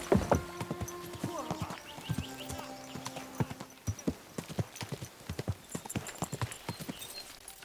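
Horse hooves clip-clop in a steady, repeated rhythm in the medieval video game Kingdom Come Deliverance II, and a horse neighs near the start. Faint voices and background sound sit under the hoofbeats.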